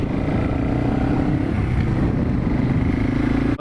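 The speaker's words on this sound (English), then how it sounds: "The engine's pretty loud" A loud, steady engine drone runs throughout without letup, a low rumbling roar close by, with no voices over it.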